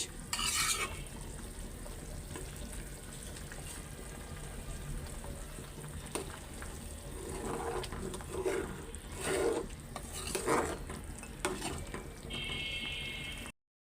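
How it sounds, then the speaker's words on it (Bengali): Garlic, onion, ginger and green chili fry for a tempering to pour over cooked bottle gourd greens, a steady broadband sizzle with bursts of stirring and spoon scrapes, ending in a brief high-pitched tone. "বাগারের জন্য এখানে রসুন পেঁয়াজ আদা কাঁচামরিচ সব দিয়ে এখন লাল লাল করে ভাইজা"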